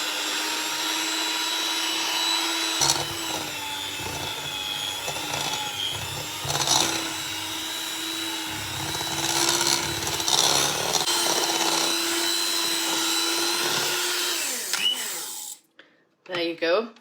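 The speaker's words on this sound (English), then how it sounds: "Now we're going to beat this. I'm using a electric whisk." An electric whisk beats butter and sugar for a Victoria sponge cake, a steady whirring drone running nearly throughout with a few louder surges, then cutting off near the end as a voice speaks briefly.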